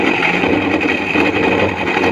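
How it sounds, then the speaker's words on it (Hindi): A mixer grinder blends almonds with water for badam sharbat, a loud, continuous whirring grind with a steady rough texture and slight fluctuations, close and alone. "और अब इन्हें ग्राइंड करेंगे अच्छे तरीके से।"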